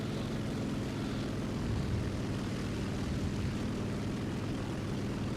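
The I-180S fighter plane's engine drones steadily in flight in the War Thunder video game, a continuous loud propeller roar with a pulsing low throb and no speech throughout.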